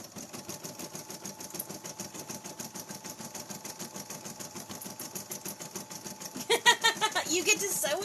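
A sewing machine stitching in a steady, fast mechanical rhythm of even clicking pulses, close and moderately loud, with a brief burst of faster, louder stitching near the end.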